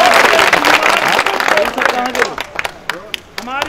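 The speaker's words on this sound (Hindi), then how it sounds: "हिम्मत है तो इस पे ताली बजाइए।" Audience clapping at a live poetry recital in Bihar, a short dense burst of applause that thins into scattered claps while a voice speaks over it.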